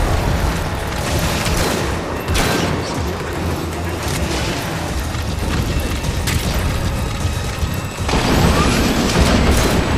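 Sahelanthropus stomping ground spikes up from the earth in a Metal Gear Solid V boss fight, a dense, loud barrage of booming crashes and rumbling impacts that swells and surges repeatedly over a continuous heavy roar.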